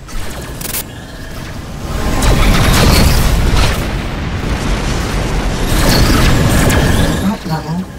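Heavy booming blasts and rumbling detonations from incoming missiles fill a space combat scene in the game Rebel Galaxy, loud and continuous with layered crashes, while a synthetic voice speaks briefly over the chaos.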